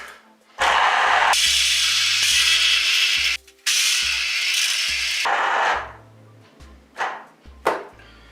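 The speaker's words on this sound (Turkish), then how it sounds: "Evet, portakalımızı da sıktık." Oranges being squeezed for juice while homemade lemonade is made, heard as loud grinding, rubbing bursts with low knocks and clicks between them, then a few sharper scrapes near the end.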